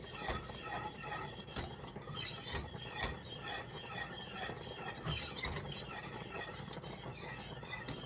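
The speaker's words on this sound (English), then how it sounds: "as I go through the pan with my whisk" A whisk scraping steadily around a pan of thickening cheese sauce for macaroni and cheese, a continuous soft rasping and stirring with occasional brighter scrapes, fairly quiet and close.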